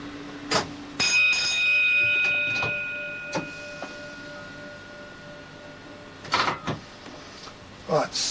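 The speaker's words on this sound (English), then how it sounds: "bell's loud enough" In the cab of a class 319 train a bell rings loudly with a long, held tone, and short knocks and clunks come and go around it.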